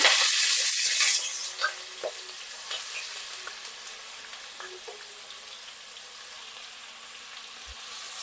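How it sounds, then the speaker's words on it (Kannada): Diced onions hit hot oil in a pan for an egg curry, opening with a loud burst of sizzling that quickly settles into a quieter, steady frying crackle with a few soft clinks of a utensil. "ಇವಾಗ ಆನಿಯನ್ಸು ಡೈಸ್ ಮಾಡಿಸ್ಕೊಂಡಿರೋದು ಹಾಕ್ಕೋತಾ ಇದ್ದೀನಿ."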